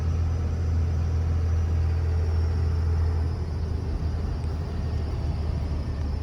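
A Cummins regular cab short bed pickup truck drives along, its engine giving a steady deep rumble and drone heard from inside the cab, constant and fairly loud with no talk.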